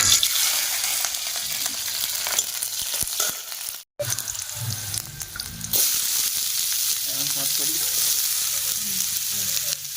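Leftover cooked rice frying with chopped onion and green chilli, a loud continuous sizzle and crackle close by, stirred throughout, with one brief dropout partway before the frying noise resumes just as strongly.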